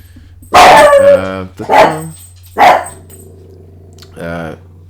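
A dog barks a few times in short, loud bursts over a steady low electrical hum, with brief pauses between the barks and a quieter final yelp.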